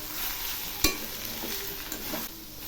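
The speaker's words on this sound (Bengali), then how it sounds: "এখন একটু নেড়ে দিচ্ছি।" A spoon stirring maan kochu (giant taro) stalk curry in a pan with lemon squeezed in, soft scraping and a few clinks over a steady oil sizzle, close and moderately quiet.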